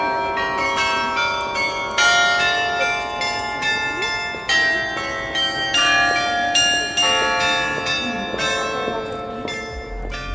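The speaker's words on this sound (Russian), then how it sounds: "С ратуши доносятся прекрасные мелодии, не просто звон колоколов," Carillon bells ring out a melody from the Gdańsk town hall tower, sustained ringing tones overlapping steadily for the whole stretch with a faint outdoor murmur beneath.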